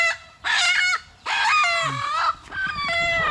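Close, loud chickens clucking in three drawn-out, raspy bursts with short gaps between them, with no one talking.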